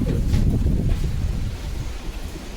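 Strong outdoor wind buffets the microphone in a steady, rumbling roar for the whole stretch, easing slightly toward the end, with no voices over it.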